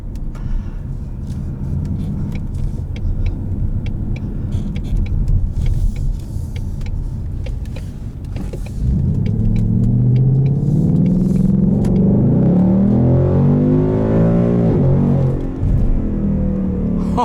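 A 2020 Ford Mustang GT Premium with the Performance Package and automatic transmission, its engine droning steadily, then swelling into a loud, deep rising rev with rumbling harmonics heard from inside the cabin.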